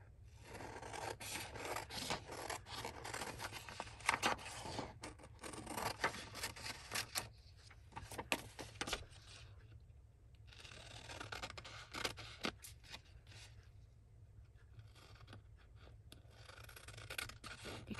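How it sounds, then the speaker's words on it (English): Scissors snipping patchwork fabric tags, a quiet close run of irregular cuts and rasping rubs with short pauses between, no talking. "I'm just going to use the scissors"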